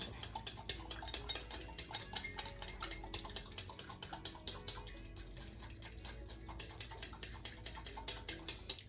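A utensil stirring glaze in a bowl, with rapid, regular clinking and scraping strokes repeating close up for several seconds and no voices.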